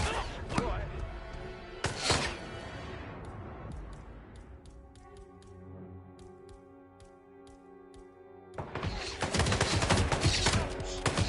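Gunfire in the Hitman 3 video game comes in sharp broadband bursts, a few shots early and then a dense loud barrage near the end, with tonal game music and voices between them.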